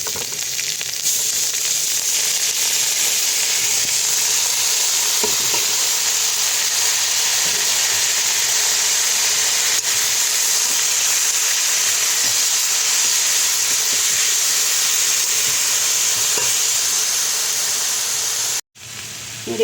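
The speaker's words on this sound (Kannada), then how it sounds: "ನೋಡಿ, ಇವಾಗ ತರಕಾರಿ ಎಲ್ಲ ರೋಸ್ಟ್ ಆಯಿತು ನೀಟಾಗಿ." Vegetables roasting in a pan, a loud, continuous sizzle and hiss that holds steady throughout, dropping out briefly just before the end.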